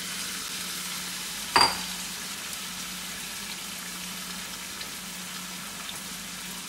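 Thin slices of tenderloin steak frying in a pan over high heat, a steady soft sizzle throughout with one brief louder clatter early on.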